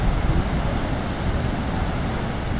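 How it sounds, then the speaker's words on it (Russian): Roar of Niagara Falls, a huge waterfall, heard as a dense, steady, broadband rush that fills the whole moment with no talking. "Ниагара это очень большой водопад. И меня почему-то больше привлекает не столько вид, сколько звуки."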